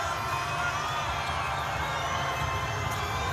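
Lobo fans fill a college women's basketball arena, The Pit in New Mexico, with a steady roar and scattered cheering during a game against Boise State. The wash of noise stays even throughout.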